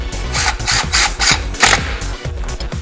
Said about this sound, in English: Tighten it down.